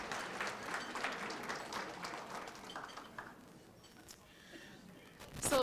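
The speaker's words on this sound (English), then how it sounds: "Give yourselves a round of applause" Attendees at the Southfield Chamber of Commerce State of the City address applaud themselves, soft scattered clapping that thins out toward the end before a brief louder burst, heard at some distance.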